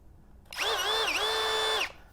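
A SKIL Flip drill runs in drilling mode in one close, steady motor whine of about 1.3 seconds, with a brief dip in speed midway before it spins down.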